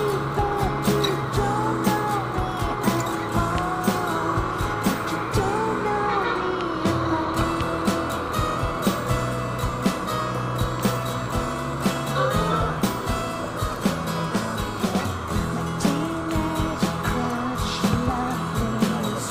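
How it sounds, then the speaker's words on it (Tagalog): Busy city road traffic on a route from Tondo to Nova, a steady dense mix of car and vehicle engines with frequent passing sounds and intermittent clicks, continuous throughout. "Traffic na po dito."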